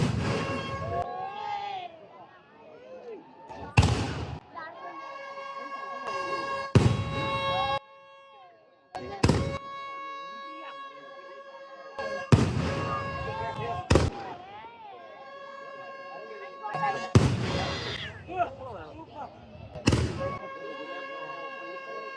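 Handmade 4-, 6- and 8-inch thiruvila sky-shot firecrackers burst outdoors in a loud, sharp series of about seven booms at irregular intervals, each one sudden, over a steady tonal background.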